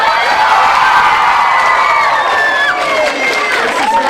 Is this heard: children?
yes